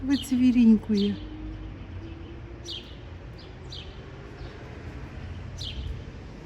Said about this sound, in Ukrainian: І взагалі пташки співають